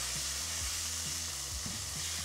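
Tomato paste and mustard sweat in a hot frying pan with a steady, close, continuous sizzle, while low rhythmic stirring sounds repeat underneath and no one speaks.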